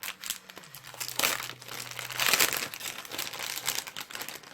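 Plastic wrapping on a flower crown package being handled and pulled open, close crinkling and rustling in irregular bursts, with some tearing.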